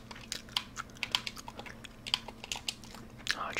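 Peppermint Trident bubble gum is chewed close to the mic with soft, wet, rhythmic smacks, mixed with quick clicky controller button presses during a Rocket League match and a faint steady hum underneath.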